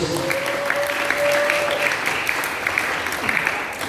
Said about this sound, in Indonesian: Mari tepuk tangan buat Tuhan Yesus.